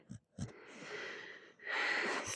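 A sleeping dachshund puppy gives soft, close snuffling snores, short wheezy breaths rising into a longer raspy exhale.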